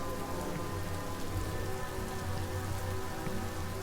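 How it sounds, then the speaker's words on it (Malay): Rain falls steadily in the video game The Shopping List, a dense, even hiss of drops on surfaces that holds constant throughout with no voices over it. "Kenapa hujan?"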